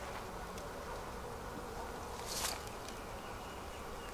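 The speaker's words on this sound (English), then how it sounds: "There's a ton of bees in here." Honeybees buzz inside an opened beehive during spring colony build-up, a faint, steady hum with a brief louder swell midway, heard alone.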